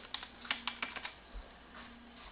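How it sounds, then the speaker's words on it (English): Typing on a computer keyboard at a Windows XP machine, a short run of about eight sharp key clicks in an uneven rhythm, close and fairly quiet over a faint steady hum, then a lull. "Let's type in Windows Media Player 9."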